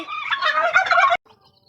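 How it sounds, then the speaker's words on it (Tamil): A domestic turkey gobbles once in a loud, rapid, warbling burst lasting about a second, close to the microphone, then cuts to near silence with faint background. "பாருங்க வான்கோழி எப்படி சவுண்டு போடுதுன்னு"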